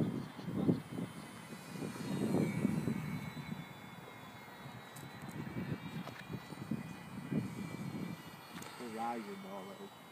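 Small ParkZone UM Spitfire RC model airplane with AS3X, its electric motor buzzing and chattering faintly outdoors amid wind noise, rising and fading as it flies, with people talking nearby.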